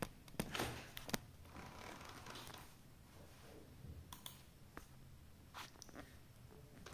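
A password is typed on a computer keyboard in scattered light clicks and taps, soft and irregular over a quiet background.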